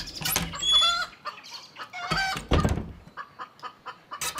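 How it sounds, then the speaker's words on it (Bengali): Chickens at a poultry farm cluck and squawk loudly in a frantic burst, several birds calling over one another up close, then settling into shorter rhythmic clucks, with no talk. "ওর পোল্ট্রি ফার্মের সমস্ত মুরগিগুলো প্রচণ্ড স্বরে ডাকতে শুরু করলো"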